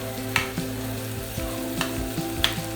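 Onions sauté in a hot frying pan, giving a close, continuous sizzle with occasional stirring scrapes and clicks, with no one speaking.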